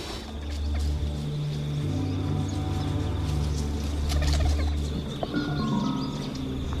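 A megapode bird calling outdoors in the bush, giving loud, close, repeated gobbling and clucking notes over a steady background of wind and insects.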